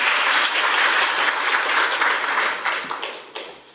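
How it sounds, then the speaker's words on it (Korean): Enthusiastic audience applause welcoming lawmakers at a handball policy forum, loud and dense clapping that holds steady and then tapers off into scattered final claps. "큰 박수로 다시 한번 맞아주시기를 부탁드리겠습니다"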